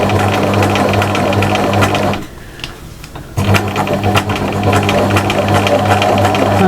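A sewing machine rattles out quick, rhythmic stitches through appliqué fabric for a cushion, stops briefly for about a second, then carries on stitching loud and close.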